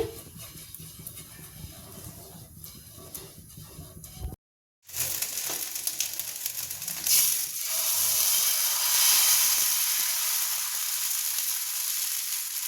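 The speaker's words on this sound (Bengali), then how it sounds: "আমার তাওয়া গরম হয়ে গেছে আমি একটু এই যে সাদা তেল ব্রাশ করে দিচ্ছি" Oil brushed onto a hot tawa griddle sizzles steadily, a bright continuous hiss that swells louder and denser after a brief break, with faint clinks of utensils in the first few seconds.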